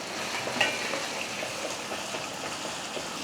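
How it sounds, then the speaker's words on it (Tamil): Sautéed okra goes into an onion-tomato paste sizzling in a pan for vendakkai puli kulambu, making a steady close frying hiss with a brief clatter near the start and no voices. "இப்போ நம்ம வதக்கி வச்ச வெண்டைக்காயை சேர்த்துடலாம்."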